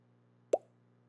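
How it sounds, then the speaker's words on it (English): A single short soft plop-like chime sounds once, brief and clean against near silence. "kind of like the Facebook notification sound you hear when you get a notification."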